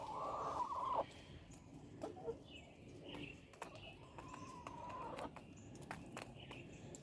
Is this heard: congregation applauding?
no